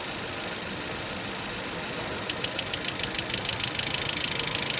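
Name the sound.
Changan car engine idling with slight shaking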